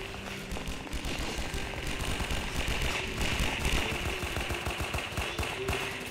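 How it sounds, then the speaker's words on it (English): Rapid, dense gunfire in the Roblox D-Day battle game, a continuous crackling rattle of many shots, loud and sustained with no talk. "I'm just gonna fire once I see a bunch of enemies"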